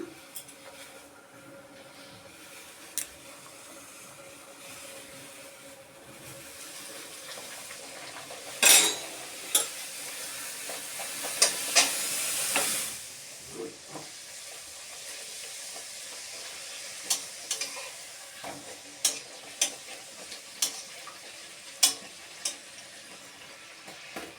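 Kochuri fry in a wok of oil, with a soft, intermittent sizzle and a louder burst of hissing midway. Scattered sharp clinks from utensils sound throughout, fairly close.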